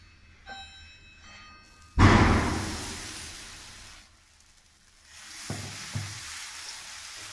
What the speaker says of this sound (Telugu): ఆయిల్ స్ప్రెడ్ చేసుకుని మనం ఇది దోశ వేసుకోవాలండి